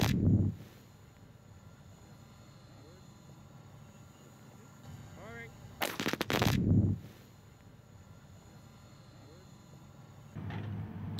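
A 128-hole blasting shot in granite for road boxing goes off as one sudden, loud, broadband blast near the middle, with a deep rumble lasting about a second. A quieter outdoor background sits on either side.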